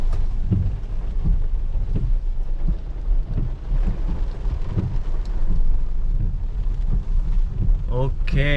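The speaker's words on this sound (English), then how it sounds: "It started raining again." Rain falls during a ride through Sathyamangalam forest, Tamil Nadu, a steady close patter with soft low rumbles running throughout, ending in a brief burst of other noise at the very end.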